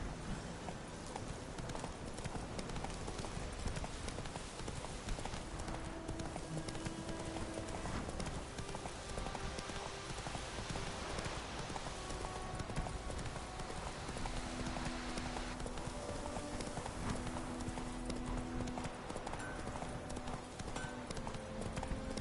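Rapid rhythmic hoofbeats of a galloping horse in The Witcher 3 drum on continuously, loud and close, with brief snorts and a game soundscape behind.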